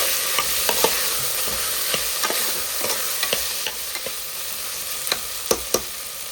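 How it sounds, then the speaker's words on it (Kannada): Tomatoes frying with turmeric in a pan, a steady close sizzle broken by scattered light pops and stirring scrapes throughout, with no voices. "ಇದು ಚೆನ್ನಾಗಿ ಮೆದು ಆಗೋ ತನಕ ಫ್ರೈ ಮಾಡಿಕೊಳ್ಳಿ."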